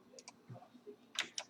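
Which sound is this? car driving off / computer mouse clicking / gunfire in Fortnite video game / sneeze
computer mouse clicking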